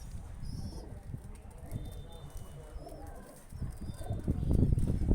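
Soft low cooing of pigeons amid a busy background of rustling and faint chirps, growing louder near the end.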